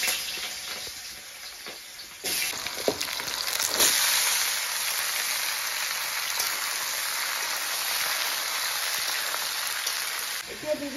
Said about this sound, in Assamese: তেনেকে এতিয়া ভাজিম তেল দিছো আকৌ দেই মিঠাতেল দিছো